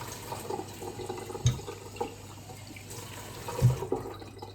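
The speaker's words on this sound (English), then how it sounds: "I didn't put quite a full tin of water because I've got to rinse this as well" Tap water runs softly into a passata tin to fill and rinse it, a faint steady trickle broken by two dull knocks of the tin.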